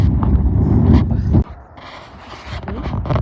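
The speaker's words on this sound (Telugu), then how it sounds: "ఇట్లుంటుంది విండ్ ఇక్కడ" Strong wind in Dallas, Texas buffets the microphone in a heavy low roar that suddenly drops, then gusts pick up again amid faint creaks.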